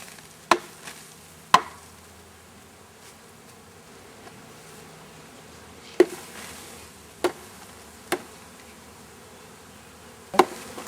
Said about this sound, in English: I'm shaking all the bees off so they can fly back over there.